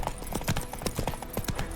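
A horse's hooves clip-clop in The Witcher 3: Wild Hunt video game, a steady walking rhythm of repeated knocks over a busy, noisy background.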